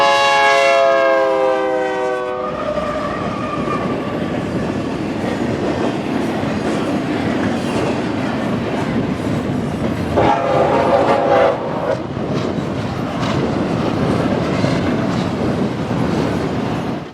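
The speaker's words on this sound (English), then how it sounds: "a pair of high-priority BNSF intermodal trains meet right in front of our cameras" Two high-priority BNSF intermodal freight trains meet on a Mojave Desert mainline. A horn sounds at the start, then a loud, sustained roar of passing stack cars with rhythmic wheel clatter fills the rest.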